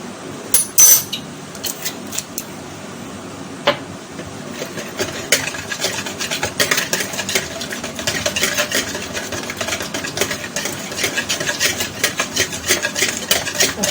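Batter being whisked in a bowl while vanilla extract is mixed in, giving a steady run of light, rapid clinks and scrapes against the bowl that grows busier and denser toward the end, with no voices.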